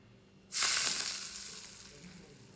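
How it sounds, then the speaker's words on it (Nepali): A sudden loud sizzle erupts as cumin hits hot mustard oil, then hisses and crackles steadily, slowly easing off, with no talking. "एउटा भाँडामा तोरीको तेल तताएर त्यसमा जिरा पड्काएर यसमा एड गरिदिने"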